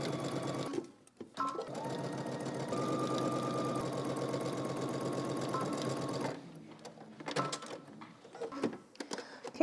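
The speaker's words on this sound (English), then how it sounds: "We're going to go ahead and stitch our short end along the top and then down the other side" A sewing machine stitches the short end of a fabric cuff at a 5/8-inch seam allowance in a steady, close, rhythmic run of several seconds, then stops, followed by faint handling noises.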